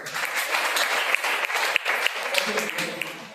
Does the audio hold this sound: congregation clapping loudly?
yes